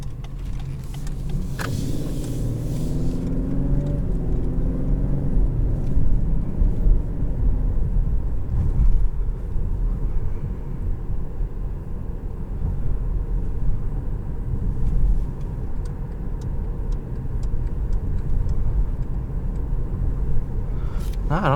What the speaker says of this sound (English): I want to see the suspension over these few coming bumps.